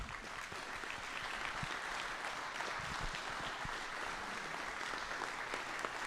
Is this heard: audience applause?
yes